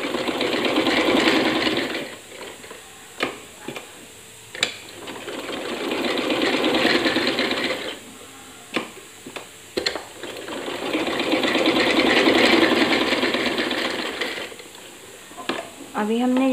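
A sewing machine stitches a decorative design on a salwar hem in three long, fast, whirring runs, separated by pauses filled with small clicks and handling knocks.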